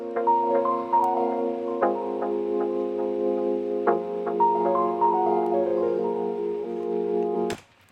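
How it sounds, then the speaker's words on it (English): A small melody from an OP-1 synthesizer: a thin, plucky patch of stacked harmonic notes with echo tails, chords shifting every couple of seconds, playing steadily alone before stopping abruptly near the end. "there's another OP1 sound, which is a tiny little melody which sounds like this"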